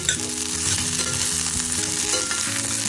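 Potatoes and chili fry in a pan with a loud, dense sizzle and steady crackle, heard close up, with faint stirring movement underneath and no talking.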